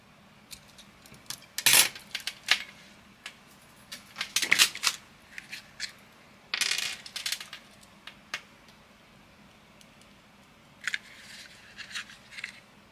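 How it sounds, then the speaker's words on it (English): Scissors snipping excess string from a handmade beaded bracelet, a few short crisp cuts and rustling clinks of beads spread across a quiet stretch, close and fairly soft. "Cut this excess string."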